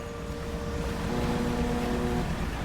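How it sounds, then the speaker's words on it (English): A ghost boat in the fishing game Dredge drones steadily with a low engine hum and faint tonal whine, carried over a washing, windy sea bed with no talk. "Oh, I heard a boat."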